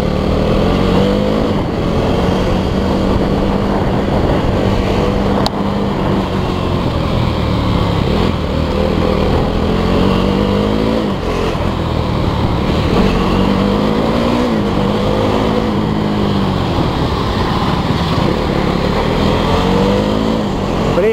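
A loud, continuous engine roar from a single-cylinder KTM 390 Duke motorcycle being ridden, with the pitch rising and falling as it revs and shifts, plus wind noise throughout.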